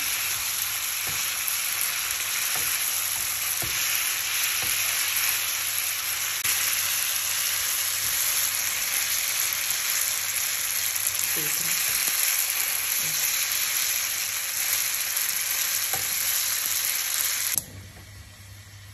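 Vermicelli spaghetti in a pan hiss with a loud, steady sizzle as a spoon stirs them, with occasional soft scrapes, before the sound cuts off abruptly near the end.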